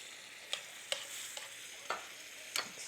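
A utensil stirring and scraping a pan of chicken piccata sauce with lemon juice, several distinct scrapes over a soft, quiet sizzle.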